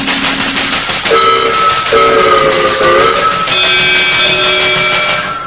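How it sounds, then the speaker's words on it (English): A steam train whistle sounds in several sustained, harmonically rich blasts with shifting pitch, loud and continuous, over a rumbling background. "also does a train"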